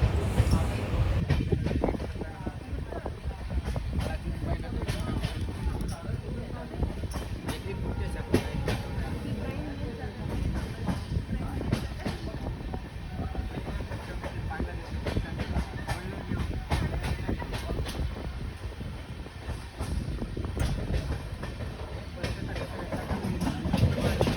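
A train running along a high mountain track in India, heard from on board as a continuous low rumble with rhythmic clicks from the rails, while people talk over it.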